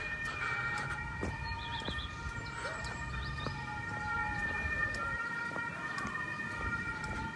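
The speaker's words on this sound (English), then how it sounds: "Oh no, it's an ambulance." An ambulance siren sounds steadily on a street in Wrocław, its wail sustained and moderately loud over traffic and city bustle throughout.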